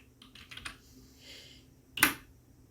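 Keystrokes on a computer keyboard while entering text into an MS Excel spreadsheet: a quick burst of close, light taps followed by a louder single key strike, with no talking.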